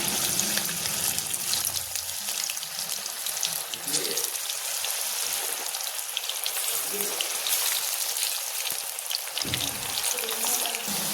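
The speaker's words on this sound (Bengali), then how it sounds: "এখন এক একটা করে ছেঁকে নেব কড়াইতে আমি তেল বসিয়ে দিয়েছি" Continuous loud bubbling hiss of cauliflower pakoras deep frying in hot white oil in a kadai, a dense rain-like crackle with faint low thumps.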